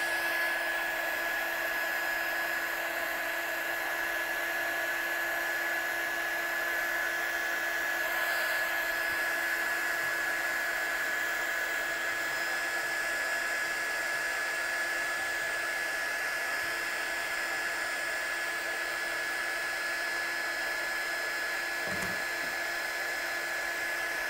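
A heat gun melting embossing powder blows a steady, loud whirring hiss with a high motor whine, running continuously and close by for the whole stretch, with only a faint brief knock near the end.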